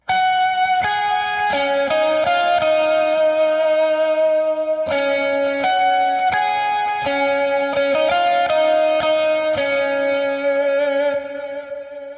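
An electric guitar plays the chorus melody hook of a song through a Line 6 Helix with a wet, echoing effect, clear single notes in two repeating phrases, loud and alone.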